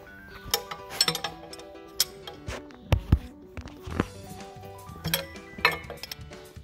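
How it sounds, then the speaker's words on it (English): Sharp metallic clinks and taps from loosening the nut on a Massey Ferguson MF 165 tractor brake adjuster, irregular tool-on-metal strikes close by with no talk. "we're now backing off the brake mechanism because you have to totally remove the nut off the brake adjuster"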